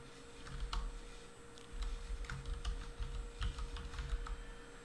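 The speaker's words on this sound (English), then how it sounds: "type in the address for the Jetson" A web address is typed on a computer keyboard in quick, uneven bursts of soft key clicks. The close, faint tapping runs alone through the whole stretch over a low background hum.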